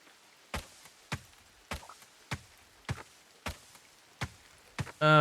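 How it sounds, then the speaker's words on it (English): Chopping in the farming game Coral Island: about eight sharp, evenly spaced thwacks at a steady rhythm, fairly close and moderately loud, followed by a brief bright chime-like burst at the end. No talking. "let's burn some energy just chopping down stuff"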